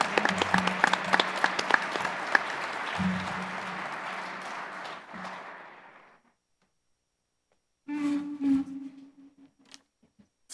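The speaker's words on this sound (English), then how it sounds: "one last round for our panel" A conference audience at a water users' annual meeting claps for a panel, a dense burst of applause that thins out and fades to silence, followed by a brief spoken voice.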